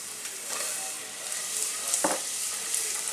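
Cumin and coriander sizzling in hot oil in a pan, a close, steady hiss with a few small bursts and a brief clatter midway.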